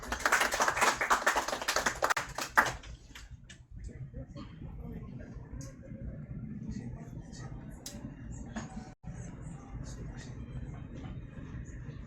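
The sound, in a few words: audience applause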